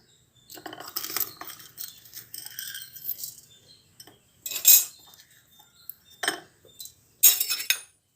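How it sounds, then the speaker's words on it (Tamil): Dry lentils tipped into a pan on the stove for dry roasting, giving several bright rattling, clinking bursts of hard grains hitting metal, close and fairly loud, with quiet gaps between pours. "அடுப்பில் சட்டி வச்சாச்சு பருப்பை போட்டுடலாம்"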